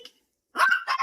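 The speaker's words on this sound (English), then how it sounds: "I'm going to shut the dog." Household dog barking, with one faint short yelp at the start followed by two loud, close barks in quick succession after a brief silence, and no talk.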